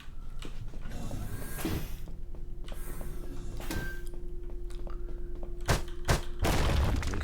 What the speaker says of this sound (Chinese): 可以徒手暴打一个气缸使它爆炸